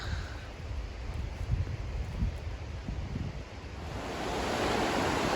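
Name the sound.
river flowing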